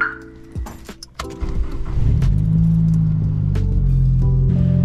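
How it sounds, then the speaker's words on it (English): Keys jingle and a Nissan S15's engine turns over, then settles into a loud, steady low idle as it warms up, with a few light clicks on top. "I just got the car warming up"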